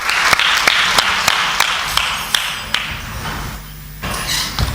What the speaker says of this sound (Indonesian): Beri tepuk tangan sekali lagi untuk Bapak Yahwi.